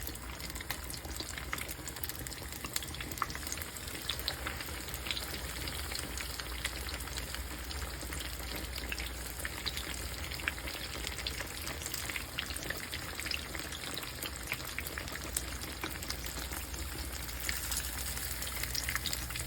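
A thick-cut pork chop for katsu fries in hot oil, making a steady dense sizzle with crackling pops that holds even and close for the whole stretch.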